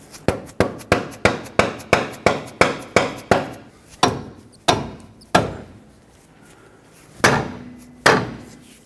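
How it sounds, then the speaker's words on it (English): Rubber mallet blows drive a new front lower control arm into the subframe of a 2006-2010 Hyundai Sonata: a rapid run of a dozen evenly spaced thuds, then slower, separated strikes with a pause before the last two. "Use a rubber mallet to drive it in."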